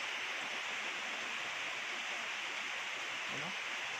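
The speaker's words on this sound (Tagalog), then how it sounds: "umuulan ngayon idol" Steady, faint rain hiss with water pouring off a roof and leaking inside, a continuous wash of noise and no voices.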